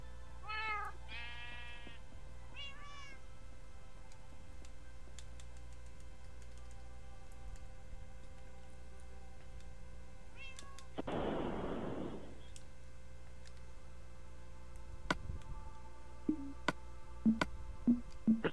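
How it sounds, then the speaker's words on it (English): Minecraft cats meow in a quick cluster near the start, followed by a loud burst of game noise midway and faint ticking clicks toward the end, with no talking. "Sadly, these are all my cats."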